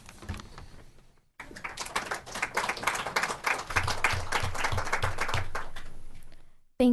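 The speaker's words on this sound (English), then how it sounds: "We truly owe you a huge round of applause again" Audience applause fills a youth commission meeting room, a dense sustained burst of many hands clapping that swells and holds for several seconds before cutting off.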